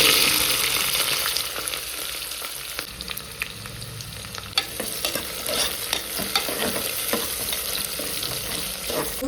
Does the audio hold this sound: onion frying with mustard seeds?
yes